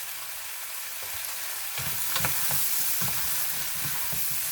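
Green onions added to a pan of orange chicken stew, a soft steady sizzle that swells into louder bubbling frying with stirring sounds, heard up close and without speech.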